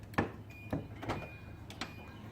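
A Nissan Armada door opens with a few separate clunks and mechanical clicks, fairly close and moderately loud, with a thin motor-like whine running in between.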